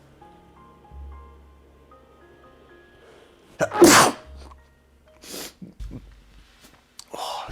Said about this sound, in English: I sneezed all over my foot